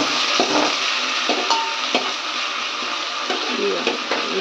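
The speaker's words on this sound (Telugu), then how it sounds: "బాగా కలపాలి." Village-style bagara rice is stirred and mixed in a pot, with steady scraping and occasional knocks of the spoon over a faint sizzle and broad background noise.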